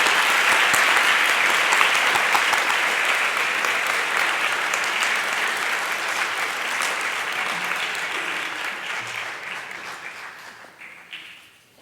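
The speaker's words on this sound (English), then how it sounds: "Please join us in a round of applause for Mrs. Kirk, our favorite teacher." An audience at a school board meeting applauds in a dense, sustained round of clapping that slowly thins and fades out over about twelve seconds.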